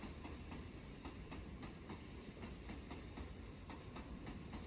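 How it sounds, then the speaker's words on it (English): A 16-carriage Shinkansen Nozomi bullet train runs at speed, heard from inside as a steady low rumble and roar with faint, regular clicks of the wheels over rail joints. "It's 16 carriages long, the same as all the other Nozomi trains, but at this speed it feels a lot longer than 16 carriages."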